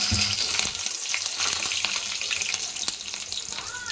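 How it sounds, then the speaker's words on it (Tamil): Onion, curry leaves and green chili fry in hot oil, giving a close, steady sizzle and crackle with occasional stirring scrapes and small pops, and no voices over it. "இது கொஞ்சோண்டு நல்லா ஃப்ரை ஆகட்டும்"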